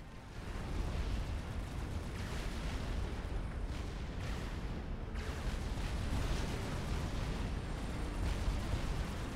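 A strategic missile launch and detonation in the strategy game Supreme Commander: Forged Alliance, heard as a loud, sustained roaring rumble with a brief dip partway through, then continuing without any voice.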